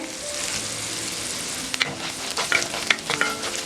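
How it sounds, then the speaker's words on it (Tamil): Dried red chillies and garlic sautéing in hot oil, with a steady close sizzle and a cluster of quick spoon scrapes and taps in the second half. "வரமிளகாயும் பூண்டையும் நல்லா எண்ணெயில் வதக்கிக்குங்க"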